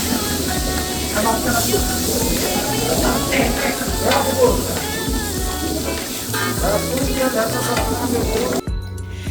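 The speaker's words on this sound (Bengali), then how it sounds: "ভাজা হচ্ছে" Eggplant frying in a pan, a loud continuous sizzle with scraping stirs and spattering that runs steadily, then drops away abruptly just before the end.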